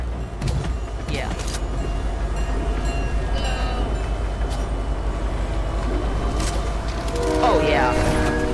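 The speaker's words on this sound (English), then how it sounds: "Wait, let's hop on the train and then wait." Moving train in the Fortnite video game, a steady low mechanical rumble and rattle throughout with scattered clanks and a rising squeal near the end, and no one talking.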